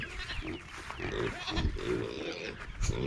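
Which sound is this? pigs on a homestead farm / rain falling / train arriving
pigs on a homestead farm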